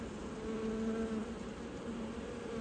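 Honeybees hum steadily around an open hive during a search for queens, a dense continuous buzz close by and unbroken throughout, with no talking.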